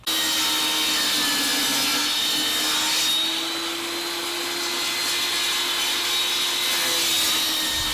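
Wooden boards are cut to length with a loud, continuous power saw whine and steady hum that barely changes pitch, running uninterrupted and close throughout.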